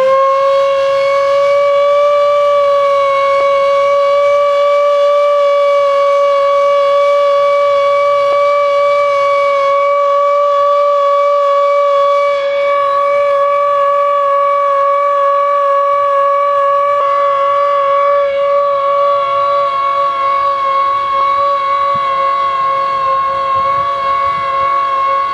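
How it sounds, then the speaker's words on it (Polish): Civil defense sirens sound across the town of Łuków at 5 pm in a steady, sustained, loud wail that holds one pitch for the whole stretch, with no talk over it. "O godzinie 17 w Łukowie rozbrzmiały syreny."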